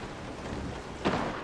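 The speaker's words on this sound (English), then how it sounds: "Oh, it's night. And it's raining." Rain falls at night in Resident Evil 7 as a steady hiss, with a louder rumbling gust or thunder-like swell near the end, moderately quiet and without talk.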